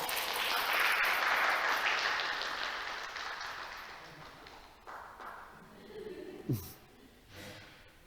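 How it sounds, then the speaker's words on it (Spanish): Class audience at an oratory workshop claps in a burst that is loud at first and fades over several seconds, followed by scattered voices and a sharp breathy vocal sound. "¡Aplauso!"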